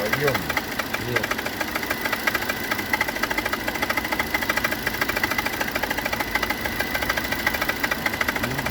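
Engine of a 2018 Renault Duster after a timing belt replacement, running with a steady fast ticking knock and a continuous vibrating hum, heard up close and loud throughout, with people talking at moments.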